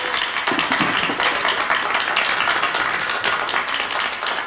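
A TV studio audience claps steadily on a 1978 French game show, dense continuous applause that stays loud and even from start to finish with no talk over it.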